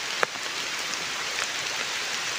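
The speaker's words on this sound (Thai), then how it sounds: "โอ้ยฝนตกพี่น้อง" Steady rain falls outdoors during a mushroom-hunting trip, a dense, even hiss throughout with one sharp drip or tap near the start.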